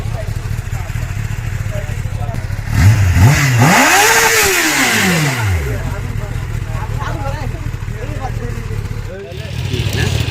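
A Kawasaki Ninja ZX motorcycle at a crowded Islampur market revs up in one rising and falling engine sweep that swells loudly and then fades, with steady crowd noise and talking around it.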